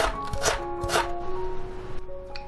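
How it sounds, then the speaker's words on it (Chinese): Knife shredding ginger into thin strips on a cutting board, a few quick, close chopping taps spaced apart, with no talk. "再来切一些姜丝"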